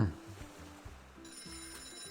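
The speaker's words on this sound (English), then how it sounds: "Answer the phone." A telephone rings in a short itch.io video game, a repeating low buzzing ring pattern with a voice faintly underneath.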